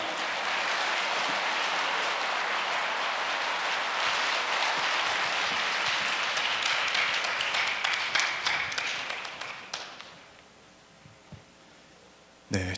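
A large church audience at a New Year prayer meeting gives loud, steady applause to welcome the praise team, a dense wash of clapping that thins into scattered claps and fades near the end.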